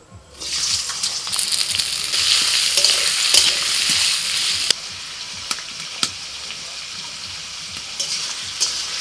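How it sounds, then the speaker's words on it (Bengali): Potatoes fry in mustard oil in a wok with a loud, steady hiss. A few sharp clinks and knocks come through as the pieces are stirred. No one speaks. "কড়াইতে সর্ষের তেল দিয়ে দিয়েছি এখন দিয়ে দিচ্ছি আলু"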